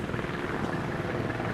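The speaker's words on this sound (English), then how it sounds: "That's the PD chopper over there." A police helicopter flies over LAX airport in Los Angeles, its steady, dense rotor roar filling the air without a break.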